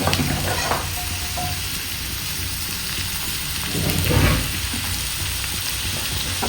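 Greens fry with coconut oil and salt in a hot pan, a constant close sizzle with a brief louder surge of crackling partway through and no speech.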